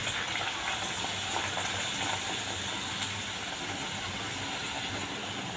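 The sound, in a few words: puris frying in hot oil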